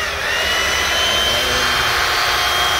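A plastic-bodied X66 850 cordless power tool motor runs steadily, a smooth, continuous whirring hum with a high whine, close and even throughout with no talking.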